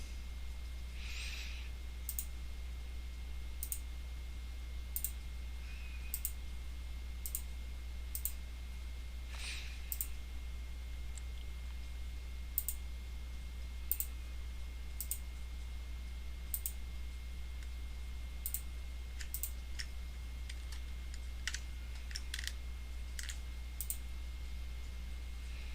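Mouse clicks from routing PCB traces in Altium, a series of sharp, isolated clicks spread irregularly across the span over a steady low electrical hum, close and moderately quiet, with no talking.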